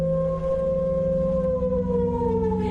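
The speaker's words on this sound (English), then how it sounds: "people standing still as a siren sounded" A civil-defense siren wails in Ramallah during the Nakba commemoration, a loud sustained tone gliding slowly downward, alone without voices.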